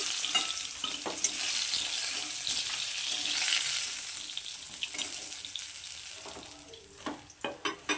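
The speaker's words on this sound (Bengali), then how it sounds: "এই পিঠটাকে এরকম লাল লাল করে ভেজে নেব" Rohu fish frying in hot oil gives a constant hissing sizzle, with stirring clatter and a few sharp utensil taps toward the end.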